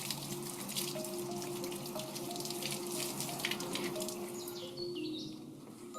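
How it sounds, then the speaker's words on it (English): Water poured into a glass casting mould, a soft continuous trickle and splash running steadily throughout, faint and close, with no voices. "pouring water into it and measuring how much water it takes to fill the mould up"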